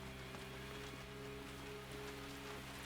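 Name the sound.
rain in video game Resident Evil 2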